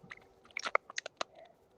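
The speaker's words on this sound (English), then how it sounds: "It's like someone chewing." Someone chewing, with a handful of quiet, crunchy bites and mouth clicks in an irregular rhythm over a soft, near background.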